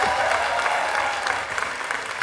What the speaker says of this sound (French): Sergent de Capi, est-ce qu'on peut l'applaudir encore très très fort?